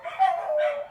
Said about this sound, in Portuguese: Vou esperar um pouquinho os cachorros pararem de latir.